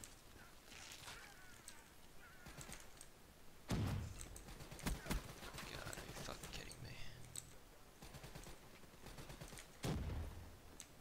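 Gunfire in the video game Call of Duty: Black Ops 3 comes as scattered, faint bursts of shots, with a few louder cracks standing out against a constant low background of game noise.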